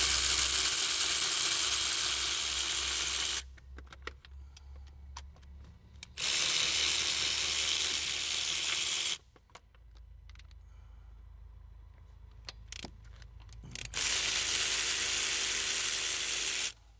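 A hand ratchet clicks rapidly in long, loud runs while loosening the 10 mm metric bolts on the intake horn of a Dodge 6.7L diesel engine, with quiet pauses between the bursts of turning.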